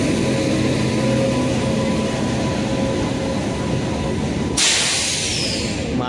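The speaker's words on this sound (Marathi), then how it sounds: "मालगाडी आहे." A freight train passing close by on the rails, a loud continuous rumble and hiss with a sharp shift in tone near the end as the wagons roll on, no talk.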